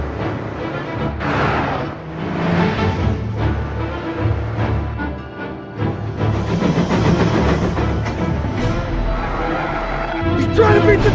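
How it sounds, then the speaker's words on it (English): A passing train in the video game Mafia: Definitive Edition, a loud continuous rumble and hiss with game sounds and excited voices talking over it throughout. "He's trying to beat the train!"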